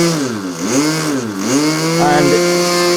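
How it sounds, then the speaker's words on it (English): A nitro model airplane engine is held nose up and run at full throttle, its loud, buzzing whine rising and dipping in pitch as it is shaken, with someone talking over it. "he's going to hold it nose up, go full throttle"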